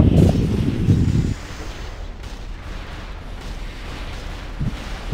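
A heavy booming burst of ship cannon fire in World of Warcraft's Icecrown Citadel raid opens the clip, followed by a lull of low rumbling and another short boom near the end.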